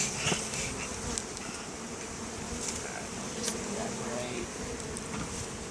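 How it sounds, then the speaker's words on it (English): Honeybees buzz steadily around an opened hive box, a fairly soft, continuous drone with a few louder passes as bees fly close. "my bees are all in my top box"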